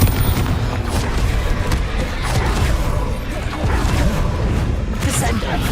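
The Confringo fire spell explodes in Hogwarts Legacy, a loud sustained burst of booming crashes and blasts rumbling through the whole stretch of combat, with a voice talking over it.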